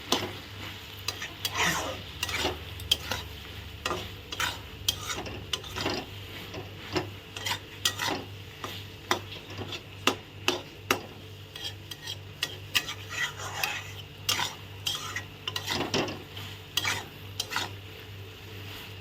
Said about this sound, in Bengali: এখন দুটো শাকের মধ্যে আমি সর্ষে আর লঙ্কা বাটা দিই দিয়ে একটু ভালো করে নাড়াচাড়া করে নেব